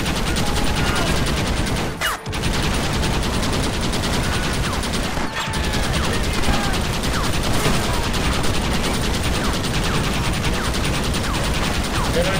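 Heavy gunfire in Red Dead Redemption during the assault on Fort Mercer, with continuous rapid shots and a machine-gun-like rattle running throughout, loud and close, broken by a couple of sharp louder blasts.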